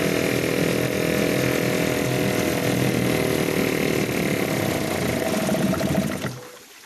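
A Yamaha/Suzuki 2.5hp outboard engine runs steadily at a close, loud, buzzing drone, then cuts out abruptly near the end.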